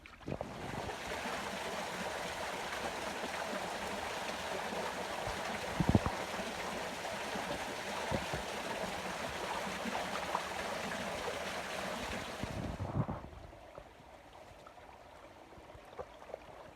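A creek flowing along a hiking route toward a waterfall, a steady broadband rush of water that fills the clip for about thirteen seconds and then drops away sharply to a faint background.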